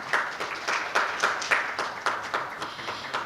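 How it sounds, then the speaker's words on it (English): An audience at a forum between the Caribbean and Korea gives a round of applause, a steady patter of many hands clapping nearby with no voices over it. "Please give them another big round of applause."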